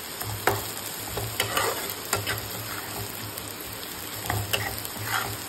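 Food sizzles and fries in a non-stick pan while a utensil stirs and scrapes, giving irregular clicks and scrapes over a steady crackle, fairly close with no talking.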